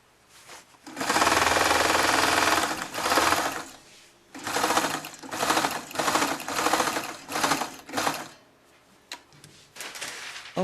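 Sewing machine running a hem on an unlined shirt-jacket, close and loud, in bursts of rapid stitching that stop and start, with long runs at first and then shorter ones.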